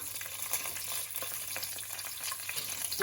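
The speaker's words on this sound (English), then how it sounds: "Once the oil is hot, I'm going to add in the cumin seed, whole spices," Cumin seeds and whole spices sizzle steadily in hot oil, a continuous crackling hiss with small pops throughout and no voices.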